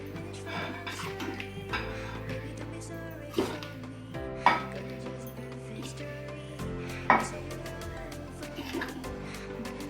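A spoon clinks and scrapes against a pan as cooked cashew prawn curry is moved into a bowl, a few sharp knocks over steady background music.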